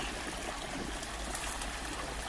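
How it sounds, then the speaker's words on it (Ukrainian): Steady flowing water of a small stream, a continuous broadband rush with faint trickling detail, fairly even in level throughout, with no voices. "А це струмочки течуть."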